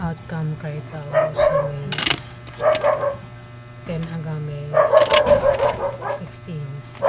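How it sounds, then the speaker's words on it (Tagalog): A dog barks in short, repeated yips and barks, close by, while someone talks over it throughout. "Ayan ang aso namin."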